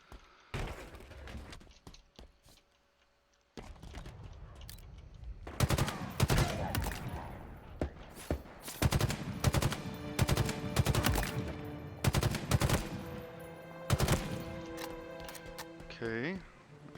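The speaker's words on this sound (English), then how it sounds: "That way I can keep my battle rifle full, because I love this gun." Battle rifle fire from Halo Infinite's campaign, repeated loud bursts of shots over busy game noise and a low background hum, continuing almost without pause through most of the stretch after a brief quiet opening.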